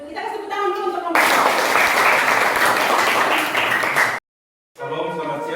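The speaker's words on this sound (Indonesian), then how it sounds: "Lanjut, kita kasih tepuk tangan dulu untuk kelompok." Classroom audience applauds a student group after a presentation, a few seconds of dense, steady clapping that stops abruptly, with a voice speaking just before and after.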